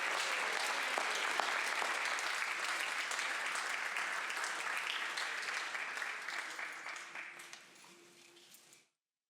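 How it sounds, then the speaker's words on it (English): Sustained applause fills the California State Senate chamber for nine seconds, a dense, steady wash of many hands clapping that holds level before tapering off at the end. "Can we please give her a round of applause and say thank you"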